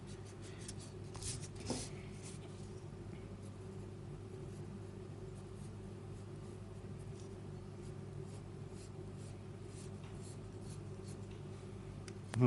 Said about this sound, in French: Alors, on va gommer un peu plus.